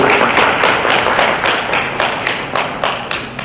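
Audience members at a thank-you gathering clap together in a quick, even rhythm, a fairly loud run of evenly spaced claps from a small group nearby that softens slightly toward the end.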